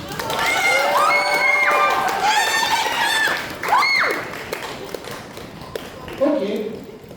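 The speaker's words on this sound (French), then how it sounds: "On peut encore les applaudir." Audience at a cosplay contest during an anime convention applauds and cheers loudly and steadily for several seconds, with shouts and an announcer's voice over the noise before it fades.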